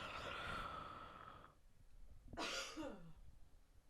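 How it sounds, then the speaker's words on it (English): A quiet throat-clearing cough, one short burst after a stretch of low background hiss and a faint hum. "Sorry about the coughing."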